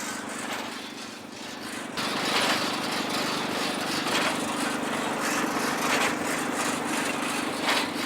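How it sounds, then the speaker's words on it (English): An old 1955 John Deere two-cylinder tractor engine driving a hay baler, a steady loud chugging drone that grows stronger about two seconds in and continues with a rhythmic mechanical pulse. "We've got an old John Deere tractor. That's an old 2-cylinder."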